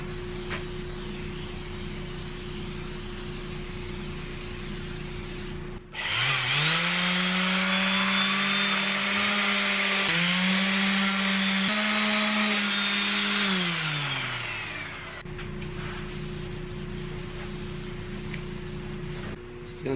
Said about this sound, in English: I'm gonna go with the orbital sander, see if it was quicker.